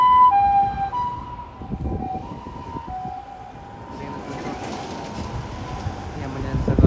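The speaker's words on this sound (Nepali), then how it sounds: "एम्बुलेन्स आएको छ रफ्तारमा" An ambulance siren wails as the vehicle speeds along a road where waiting traffic has cleared a path, its repeating tones sounding fairly close and loud over engine rumble and street noise.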